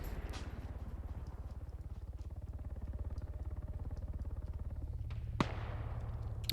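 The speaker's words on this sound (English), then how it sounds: "So now you're hearing the gunfire starting to die down a little bit." Rapid gunfire in a military video game battle, a steady dense crackle of shots running throughout at moderate level, with one sharp louder crack near the end.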